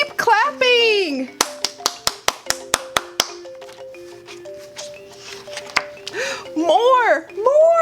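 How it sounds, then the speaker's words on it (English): Children clap their hands in a run of sharp, separate claps near the start, with young voices chattering and exclaiming before and after on a kids' television show. "Let's clap more."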